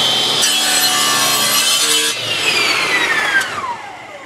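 A saw cuts a wooden ring for segmented woodturning, a loud close whining rasp that holds steady and then drops in pitch as it fades near the end. No one talks over it.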